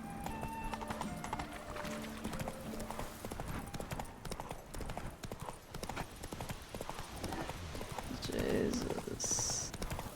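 Roach, the horse in The Witcher 3, gallops in a steady clip-clop rhythm and gives a brief neigh near the end, with a voice talking over the hoofbeats.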